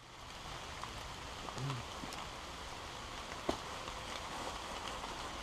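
Steady rain falling at a lake campsite in a provincial park, a soft continuous patter across the whole stretch with one brief sharper tap near the middle and no talking.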